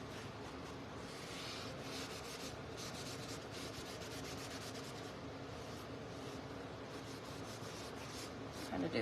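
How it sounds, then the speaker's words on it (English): Cloth rubbing and wiping a finish into a wooden cutting board, a continuous soft scrubbing swish at close range, fairly quiet with steady strokes. "And then I'll wipe off any excess"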